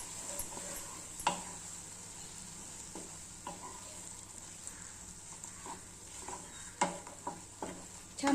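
A spoon stirs and scrapes a semolina and potato mixture in a pan, with soft sizzling and occasional sharp clinks against the metal; quiet and close, no talk.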